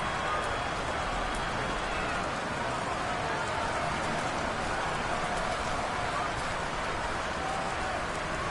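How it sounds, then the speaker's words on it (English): Steady rain hisses over a football video game matchup between the Seahawks and Falcons, a dense, even wash of drizzle that persists unbroken throughout at moderate level with faint commentary-like voice beneath. "The rain set to continue as we are underway in the second half"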